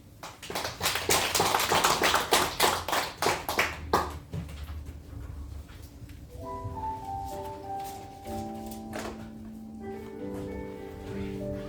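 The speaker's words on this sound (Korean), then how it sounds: "박수로 환영." Applause from a church congregation welcoming the worship team during a Christmas service, a dense burst of clapping for about four seconds that fades as keyboard and instrumental music begin.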